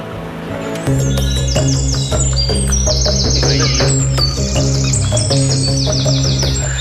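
Bright, rapid bird chirps and trills repeat over a loud, steady background hum in Ranthambore Tiger Reserve forest, close and continuous.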